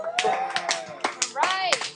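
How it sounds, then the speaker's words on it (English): Students in a classroom clap in short bursts, with children's voices and cheering mixed in over the hand claps. "clap if you agree with Brandon"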